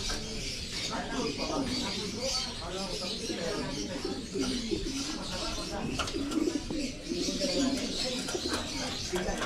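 Breeder pigeons coo in soft, repeated low calls, joined by occasional flutters, with people talking close by throughout.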